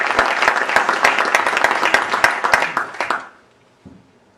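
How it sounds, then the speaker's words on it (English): Crisp, loud applause from an audience at a conference keynote, individual claps clearly distinct in a brisk rhythm, stopping abruptly after about three seconds, followed by a short faint sound. "Please stand up and give them a round of applause."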